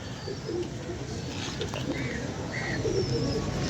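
Pigeon cooing, tied to a white Chinese pigeon kept by fanciers, comes as soft low murmurs over steady background noise across the short stretch. Faint chirps from other birds sit in the mix, with no clear talk over it.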